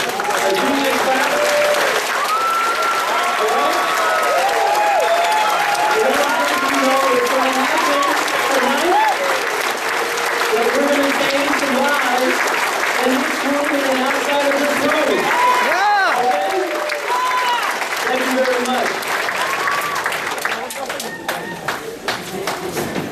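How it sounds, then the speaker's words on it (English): An audience at a summit event in Central Florida applauds steadily for over twenty seconds, a dense wash of clapping from a large crowd, while a voice talks and cheers faintly underneath before the clapping thins at the end. "give ourselves a nice round of applause"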